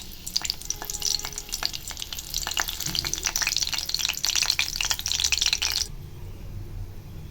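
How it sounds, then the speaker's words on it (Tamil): Loud crackling sizzle of whole spices (star anise, cinnamon, cloves) hitting hot oil for chicken gravy, dense popping and spitting that suddenly drops away to a quiet low hiss near the end. "அடுத்து எண்ணெய் காஞ்சதும் நட்சத்திரப்பூ, பட்டை, லவங்கம் இதெல்லாம் ஆட் பண்ணிக்கலாங்க."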